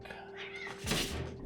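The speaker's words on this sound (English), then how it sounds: "Dog and cat, please stop fighting" A cat gives a brief, strained meow rising into a yowl, close and fairly loud over a busy indoor background, during a scuffle between a cat and a dog.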